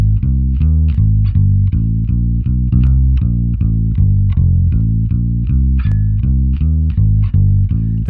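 A Crane Song Peacock processor on its gold setting adds warm harmonic richness to a loud, steady rhythmic bass-heavy music loop, with evenly spaced punchy hits and no talking.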